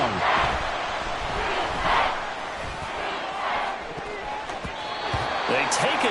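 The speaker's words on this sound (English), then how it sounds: "This crowd turning up the decibel level." Stadium crowd roaring in a Madden football video game during a Seahawks game, a loud, sustained swell of cheering with surges and faint thuds beneath, while a commentator talks over it.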